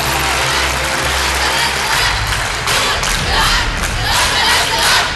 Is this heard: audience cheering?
yes